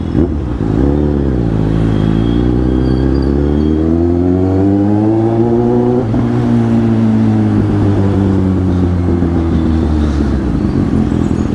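A vehicle's engine drones loudly up close while driving, its pitch climbing and settling through gear changes in a steady continuous hum.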